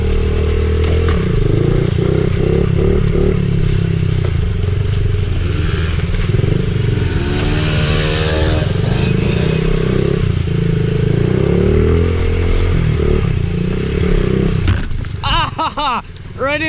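Honda CRF 50 pit bike ridden off-road, its small engine buzzing and revving steadily close up for most of the ride, with shifting pitch, some clatter, and a voice near the end.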